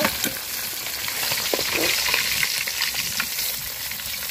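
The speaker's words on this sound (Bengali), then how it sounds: "তো মাছগুলো যে কড়া করে ভাজা নিচ্ছি," Fish frying crisp in hot oil in a village kitchen, a steady, dense sizzle running throughout with a few brief crackles and no voices.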